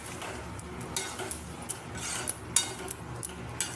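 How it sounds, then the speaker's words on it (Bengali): Spices being stirred and sautéed in a pan for egg tarka curry, with a steady soft sizzle and repeated scraping clinks of a spoon against the pan, fairly close and without talk. "মশলা দিয়ে এবার ভালো করে আমি কষিয়ে নেব"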